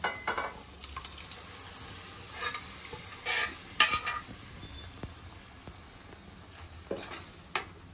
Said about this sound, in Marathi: आता ही डाळ आपण तडक्यामध्ये ओतून घेऊया